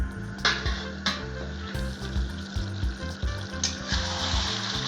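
Chicken curry with potatoes frying in a covered pot, a close, steady sizzle with rhythmic thumps and scrapes of stirring throughout, and no voices.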